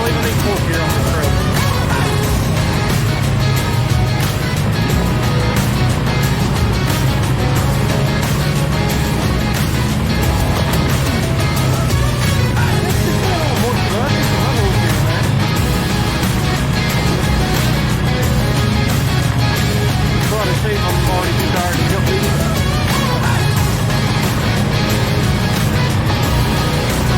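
A Honda Rubicon 520 ATV working up through its gears on a forest trail, its engine a steady, noisy drone that runs under a rider's talking.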